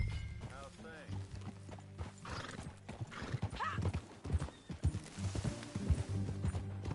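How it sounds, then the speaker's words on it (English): Horse hooves clip-clop at a steady rhythm in the Red Dead Redemption 2 video game, with a brief whinny, while voices talk over the riding. "That a new horse?"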